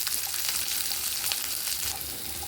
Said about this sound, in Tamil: இப்போ வெங்காயம் வதங்கிடுச்சுங்க